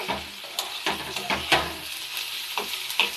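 Bottle gourd peel frying in a pan while being stirred, soft sizzle broken by repeated scraping and clinking strokes of a spatula at an irregular rhythm, close and moderately quiet.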